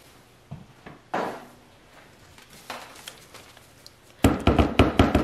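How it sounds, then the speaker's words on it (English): A stick blender shaft is tapped against a container while making coconut-milk soap, giving a few sparse knocks followed by a quick burst of louder rapid taps near the end. "So I tap the stick blender to release the air from the shaft."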